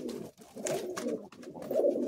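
A pair of Madrasi high-flying pigeons in a Kolkata loft, cooing softly in short, low, throaty bursts with brief gaps, close and quiet.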